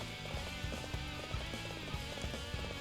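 Steady clip-clop of galloping horse hooves in the video game Dynasty Warriors 7 on PS3, in a quick repeating rhythm, set against a dense, constant background of music and ambient noise.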